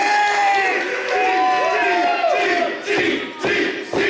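Wrestling arena crowd at a live match roaring and cheering loudly, a dense mass of shouting and whooping voices with rising chants and clap-like bursts near the end.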